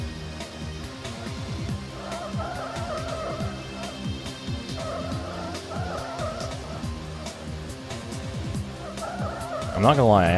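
In the PlayStation racing game 5 Star Racing, a race car engine drones steadily with rising and falling revs, while brief tire skids break in and a louder screech comes near the end, all under a voice talking.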